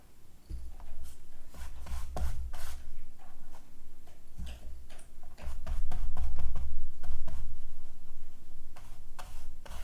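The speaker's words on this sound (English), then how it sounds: "If you hear weird chewing sounds in the background," A dog chews apart a stuffed toy in the background, producing irregular clicking, tearing and gnawing sounds in bursts over a low rumble, with no talking.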